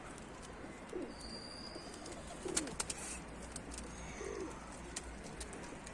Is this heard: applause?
no